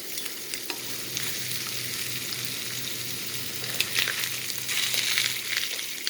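Italian lamb chops with seasoning sizzle steadily in a frying pan, a close, even crackle that holds for the whole stretch and swells slightly near the end.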